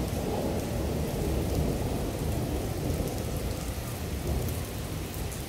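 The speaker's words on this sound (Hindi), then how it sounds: "ये आपको बारिश नज़र आ रही है," Heavy rain pours steadily with a deep rumbling roll like distant thunder underneath, loud and continuous with no voices.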